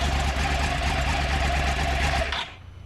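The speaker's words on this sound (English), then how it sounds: "That's the new uneven firing interval Crossplane crankshaft." A 2009 Yamaha YZF R1 with an uneven-firing crossplane crankshaft engine runs steadily and loud at close range, a dense rumbling drone that cuts off abruptly near the end.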